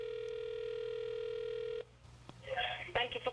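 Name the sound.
telephone call ringing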